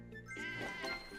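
A cartoon sheep bleats in the puzzle video game Divide by Sheep, a short wavering baa heard once, fairly faint and alone with no talk.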